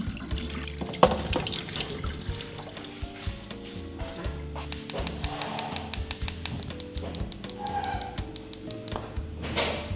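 Tap water runs steadily into a sink while pieces of cobia fish are rinsed clean by hand, with soft splashes and clinks of handling over the continuous flow.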